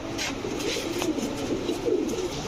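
Soft cooing of cream-eyed Saharanpuri pigeons, low and continuous, with a steady murmur of birds close by and no talking.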